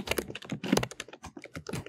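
Quick, close typing on a computer keyboard, a rapid irregular patter of crisp key clicks across two seconds with no voice.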